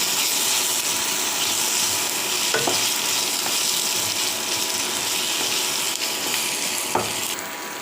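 Tomato curry with drumstick, garlic paste stirred in a sizzling pan, a continuous loud frying hiss with faint occasional scrapes of the spoon, close and without speech.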